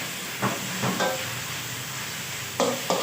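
Chinese kale being stir-fried with crispy pork in a hot pan, a steady sizzle with a few sharp scraping strokes of the spatula near the start and end, close and alone.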